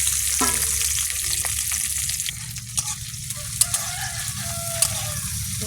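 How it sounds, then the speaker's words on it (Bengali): Small mourala fish sizzle in hot oil in a wok, a steady close-up frying hiss with occasional sharp pops and spatters, and no one talking over it. "তেলে একটু ভেজে নেবো"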